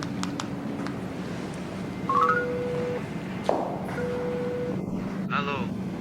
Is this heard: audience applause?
no